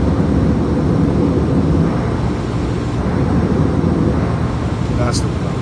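Steady, loud broadband roar of an A320neo airliner climbing in Microsoft Flight Simulator 2020, a continuous engine and airflow drone with no break and no talk over it.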